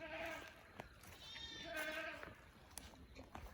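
A distressed baby goat bleats in a forest setting, a couple of wavering, quavering cries close by, with faint outdoor background sound between calls.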